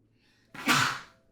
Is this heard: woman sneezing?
yes